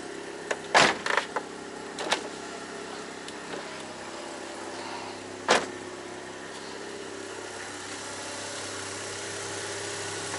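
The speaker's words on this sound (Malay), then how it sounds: "Sekejap saya tutup pintu dulu" A Mazda RX-8 door swung shut: a sharp close clunk early on, a couple of smaller knocks after it, and another firm thud a few seconds later, then a low steady background hum.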